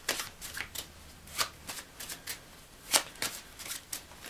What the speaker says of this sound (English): So now the cards are nicely shuffled.